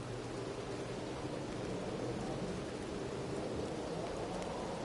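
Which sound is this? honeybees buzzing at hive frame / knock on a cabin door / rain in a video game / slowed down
rain in a video game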